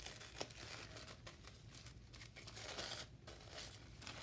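Tissue paper crinkles and rustles steadily as a small wrapped gift is opened, soft close-up crumpling and tearing that runs throughout, faint and without talk.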